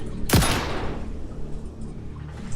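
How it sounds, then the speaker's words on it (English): A single sharp gunshot from the video game Satisfactory cracks loudly near the start, followed by a decaying echo tail and low ambient game noise. "This is what gunshots sound like in the game."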